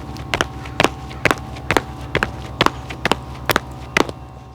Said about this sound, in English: The support foot should land first, followed by the balance foot. It should sound like this.